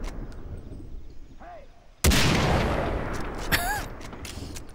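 Far Cry 3 gunfire sounds as a sharp, loud blast with a long booming tail, then a second shot a moment later, over quieter game ambience and whistling effects.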